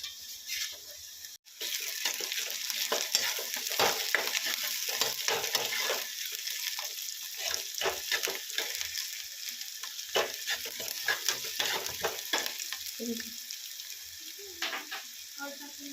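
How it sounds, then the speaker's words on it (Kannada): Onions and green chillies frying in a pan while being stirred, a steady loud sizzle running throughout with repeated scraping stir strokes, close up and without talk. "ನಾನು ಈರುಳ್ಳಿ ಫ್ರೈ ಮಾಡ್ಕೋಬೇಕ್ರಿ"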